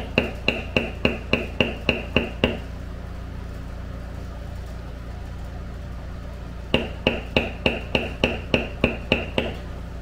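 Leather being beveled with a hand tool struck by a mallet while cutting a basketweave pattern: a steady run of sharp, evenly spaced taps, a pause of a few seconds, then another rhythmic series of crisp strikes, close and clear.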